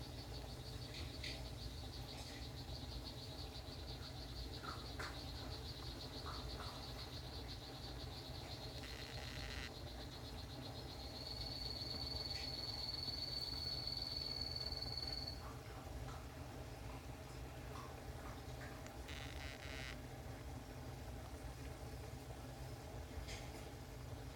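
A blue poison dart frog, Dendrobates tinctorius azureus, gives a faint, sustained high buzzing trill for several seconds during breeding behaviour, set against a steady low indoor hum.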